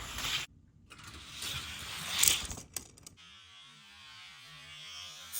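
Hot Wheels die-cast toy cars, a Demon and a Classic '57 T-Bird, race down a drag track with a whirring, rattling roll that ends in a brief clatter before a low mechanical hum.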